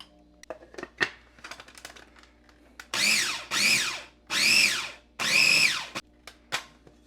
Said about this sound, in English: Now I'll mix this up till it becomes nice and combined.